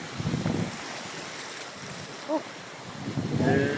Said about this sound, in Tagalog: Lahat ng alon.